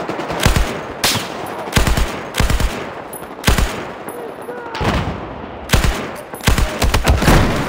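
Gunfire in the video game Battlefield 4: loud, close single shots and short bursts arriving in irregular clusters, with players' voices talking between the shots.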